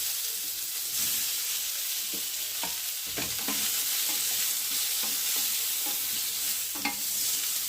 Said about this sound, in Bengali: শিম, আলু, ফুলকপি বেশ কিছুটা ভাজা হয়ে গেল।